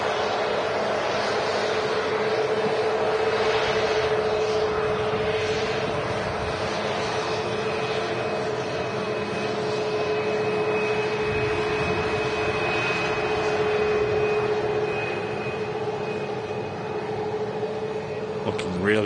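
A Sun Express Boeing 737 MAX 8 jet at Manchester Airport gives off a sustained engine roar with a faint steady whine, moderately loud throughout, with some outdoor background noise.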